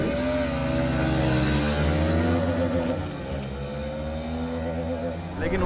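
Yamaha MT15 and Bajaj NS200 motorcycles in a drag race, engines revving hard and droning loud and close as they accelerate together, pitch climbing through gears, with voices faintly underneath.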